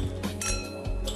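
Glasses clink together in a toast, a couple of bright ringing taps close by with a lingering tone, no talking over them.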